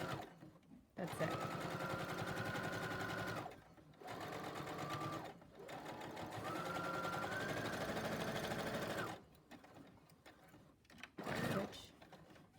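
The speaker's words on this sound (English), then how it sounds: "you're going to back stitch, keep it nice and secure, and then you're just going to stitch quickly all the way across" A sewing machine stitches straight across a cloth face mask in three long, steady close-up runs separated by short pauses, with quiet handling noise between bursts.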